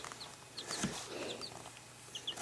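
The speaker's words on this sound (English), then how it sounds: "Baby chickens." Newly hatched chicks, including a barred rock, in a brooder on their first day, giving soft scattered peeps and chirps at low level over a quiet background.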